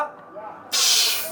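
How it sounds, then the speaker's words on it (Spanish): Manual nitrous purge on a Nissan Sentra drag car, a sudden loud broadband hiss bursting on and holding steady after a quiet moment of faint background murmur. "Una purgada de nitro."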